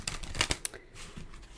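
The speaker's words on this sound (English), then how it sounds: "I'm going to shuffle out the cards" Tarot cards are shuffled in a few quick riffling bursts, close and crisp, with no talking.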